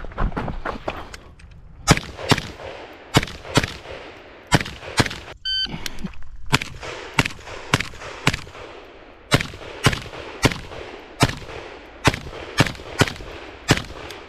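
CZ Bren 2 rifle in 7.62x39 fired on a shooting range, a long string of sharp, loud single shots at an uneven steady pace, close by, with a brief electronic beep partway through.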